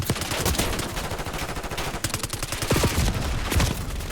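Rapid, dense gunfire in the video game Black Ops 6 on the Nuketown map, loud bursts of automatic shots running continuously with no voices.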